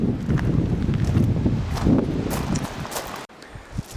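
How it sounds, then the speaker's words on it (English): Gusty coastal wind on Catalina Island buffets the microphone with low rumbling roars that swell and ease, fading near the end. "It's really windy here"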